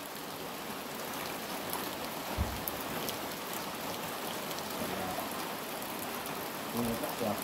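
Morning rain falls steadily in a transmigration village, a constant close hiss of drops hitting surfaces, with a soft thud partway through and faint voices under the downpour.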